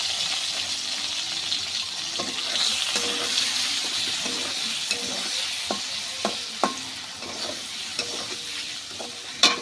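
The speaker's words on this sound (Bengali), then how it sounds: "এখন কুচনো পেঁয়াজ আর টমেটোগুলো দিয়ে দেবো গরম তেলে।" Chopped onions and tomatoes fry in hot oil in a home kitchen. A steady, close sizzle hisses under sharp clinks and scrapes from stirring, and there is no talking.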